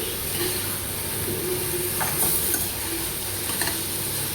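Naru sweets cook in a pan on a home stove for a Janmashtami puja, giving a steady soft sizzle and hiss with a few faint scraping clicks from stirring, and no voices.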